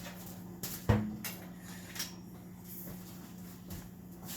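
A metal pot lid clanks sharply once as it is lifted off, followed by a few lighter kitchen taps and clinks, close and otherwise quiet.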